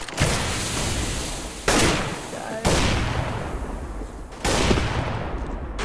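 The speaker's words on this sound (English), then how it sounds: "Throwing a flashbang!" Repeated loud broadband bursts of gunfire-like blasts in a CS:GO match, four sharp onsets each followed by a sustained noisy wash, as a flashbang grenade goes off amid the game's combat.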